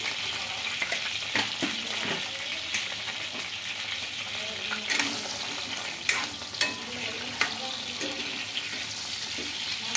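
Brinjals fry in oil in a pan with a steady, close sizzle and occasional stirring scrapes and clinks throughout.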